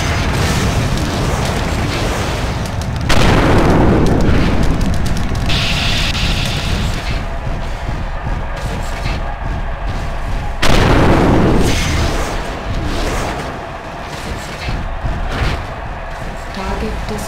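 In the MechWarrior 4: Mercenaries video game, a target mech is destroyed in a coliseum match, with two heavy booming explosions amid continuous loud battle rumble, while a voice speaks over the action.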